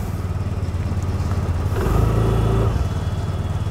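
A TVS Jupiter 125 scooter with its silencer idling steadily close by, the engine note rising briefly in a short rev before settling back to a constant putter, with no talk over it.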